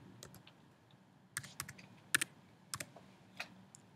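Password typed on a computer keyboard, a few scattered key clicks followed by a quicker cluster of taps, close and quiet with no speech.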